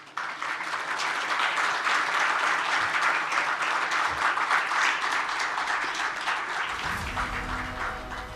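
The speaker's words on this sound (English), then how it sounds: "very warm round of applause." A large audience in a hall applauds warmly and continuously, dense clapping holding steady before low music or rumble rises near the end.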